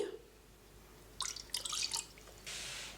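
Water is poured into a bowl for kachori dough, making a few quick splashy trickles followed by a brief steady pour, close and moderately loud with no talk.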